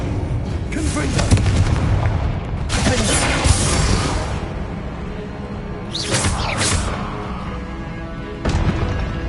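Confringo fire-blast spells burst with several heavy booms over a steady rumbling game soundscape in Hogwarts Legacy on PS5, with sharper blasts arriving near the middle and end.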